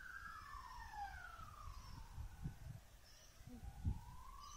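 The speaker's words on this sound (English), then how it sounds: "ambulance going past" An ambulance siren wails past in a park with a playground, its rising and falling tone sweeping steadily across the clip, moderately distant, over low rumbling wind or traffic noise.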